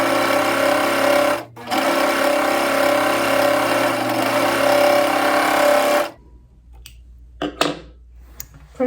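A sewing machine stitching the sleeve hem of a T-shirt runs in a steady close whir, pausing briefly once, then stops after about six seconds, leaving faint handling clicks and rustles.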